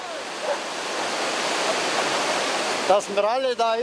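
Rushing Alpine river beneath a bridge, a steady loud broadband roar of fast water filling the whole clip, with a person starting to speak over it near the end.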